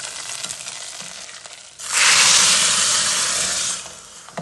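Mustard seeds and curry leaves tempered in hot oil are poured into a pot of sambar, setting off a loud, close sizzling burst that lasts about two seconds over a quieter kitchen background before dying down.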